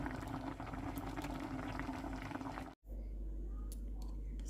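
A pot of Thai dessert with sugar and coconut milk boiling on the stove, a dense, continuous bubbling simmer heard close up, steady and fairly loud for a few seconds before a brief cut and a quieter bubbling tail.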